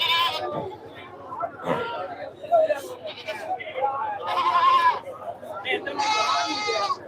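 Goats bleat repeatedly at a Saturday livestock market in Ettayapuram, with several loud cries rising over a background of people chattering and crowd babble.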